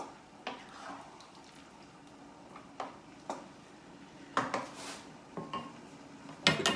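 Scattered clinks and knocks of a lid and cookware being handled on a Power XL cooker while making ground pork and vegetables, sharp short metallic taps at irregular intervals over a quiet background.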